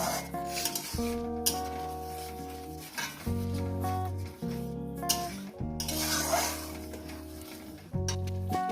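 Spices being stirred in ghee in a pan for a vegetarian potato and pointed gourd curry: continuous scraping and rubbing of a spoon against the pan over a steady low sizzle and a loud tonal hum.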